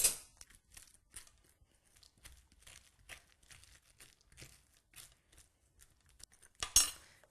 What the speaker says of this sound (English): So you scoop out the seeds